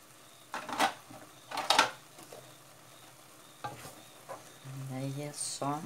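Ox tongue cooking in a pan, with soft sizzling under a few louder scraping and stirring strokes, ending in a brief clatter of utensils.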